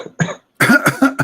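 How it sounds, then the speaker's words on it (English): A person coughs several times in quick succession during a religious debate, with one short cough followed by a pause and then three harsh, close, loud bursts. "Yeah, cough."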